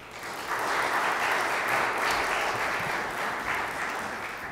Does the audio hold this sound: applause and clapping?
yes